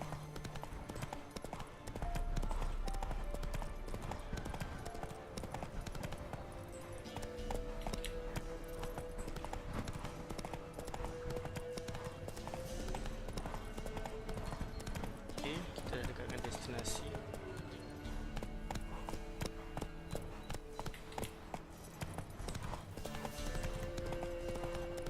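Roach, a horse in The Witcher 3 video game, gallops with steady rapid hoofbeats that continue throughout under game music and ambience, and a voice talks over it.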